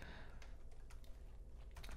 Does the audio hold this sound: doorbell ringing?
no